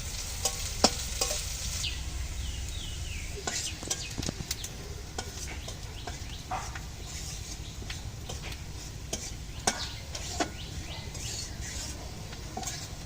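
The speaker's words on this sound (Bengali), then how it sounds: "দিচ্ছি কুচানো পেঁয়াজ রসুন, একদম লালচে করে ভেজে নেবো পেঁয়াজগুলো।" Chopped onion and garlic frying in oil for masoor dal, a steady, fairly faint hiss with light scattered ticks and spatters throughout.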